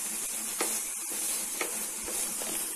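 Vegetables, including carrot, fry with pasta masala in a pan, giving a continuous close hissing sizzle broken by a few soft stirring scrapes.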